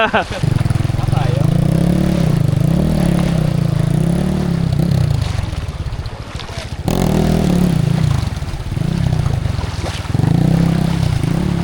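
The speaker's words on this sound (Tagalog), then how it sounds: "lakas ng motor niya, naka 200cc na yan eh" A 200cc motorcycle engine drones loudly throughout, its pitch rising and falling as it revs, with voices talking over it.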